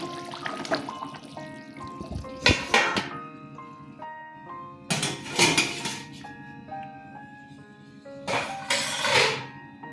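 A metal lid set down on a cooking pot of Katla fish curry after the gas is turned off, giving a few sharp clattering clanks over a background of ringing, tonal kitchen music.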